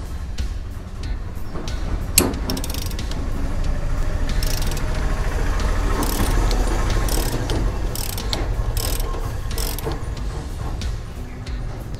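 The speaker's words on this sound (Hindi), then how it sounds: "और रैचेट गियर को चूँकि हमें एंटी क्लॉकवाइज घुमाना खोलने के लिए, तो इसे इस तरह से हम सेट कर लेंगे और इसे हम ओपन करेंगे।" A ratchet fitted with a 22 mm socket works a bolt loose anticlockwise on a Karizma motorcycle, a dense run of clicking pawl strokes over about twelve seconds, close and fairly loud, with no talk.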